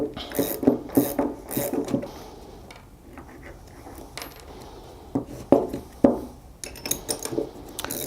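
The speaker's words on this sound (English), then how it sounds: "Start by removing the connecting threaded rods that go through all valves." A hand ratchet backing nuts off the threaded rods that run through pneumatic air-system valves: bursts of quick metallic clicking, near and fairly quiet, with pauses and a few clinks between strokes.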